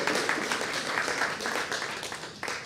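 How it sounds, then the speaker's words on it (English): A congregation claps during a Sunday service in a Unitarian Universalist church, a dense, steady patter of many hands that fills the room at moderate loudness and tapers slightly toward the end. "Yes, we can clap for that."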